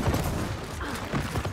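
Gunfire in the video game Gears of War 4 rattles through a dense, continuous burst of overlapping shots lasting about a second and a half, steady and fairly loud throughout.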